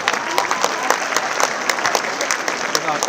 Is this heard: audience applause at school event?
yes